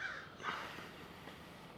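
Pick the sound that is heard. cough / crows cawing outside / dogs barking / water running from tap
crows cawing outside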